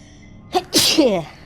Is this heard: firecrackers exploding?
no